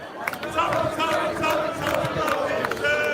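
Crowd shouting in a street disturbance in Blackpool as fighting breaks out, a brief dense burst of overlapping yelling voices, close and fairly loud with no clear speech.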